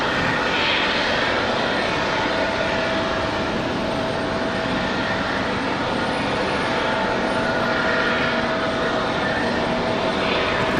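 An Alaska Airlines jet arriving from Seattle on final approach at Raleigh-Durham airport gives a continuous broad engine roar, loud and steady throughout with no talking.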